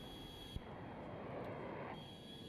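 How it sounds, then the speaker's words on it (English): Enemy jet flying overhead in Battlefield 2042, a steady broadband engine roar that holds at a constant level for a couple of seconds with a brief thump near the start, no talking. "And here we have an enemy jet."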